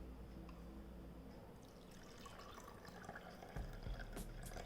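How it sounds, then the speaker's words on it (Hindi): Rice water that has been strained, mixed with onion peel and green tea, is poured into a glass, a faint, continuous liquid trickle and splash that grows slightly louder toward the end. "अब ये देखिए एक ग्लास है, उसमें हम सिर्फ इसका पानी डालेंगे।"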